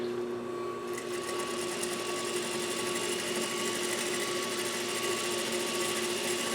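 A Juki DDL 8300N industrial sewing machine runs steadily at a controlled speed, a close, continuous mechanical whir with a fine rapid needle rhythm, heard alone without talk.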